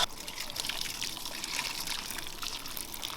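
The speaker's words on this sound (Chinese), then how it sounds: "先把金老师的这些素菜给它洗一下， 然后来洗我的菜" Vegetables washed under running water in a home kitchen, with a continuous close trickling and splashing stream that holds steady throughout.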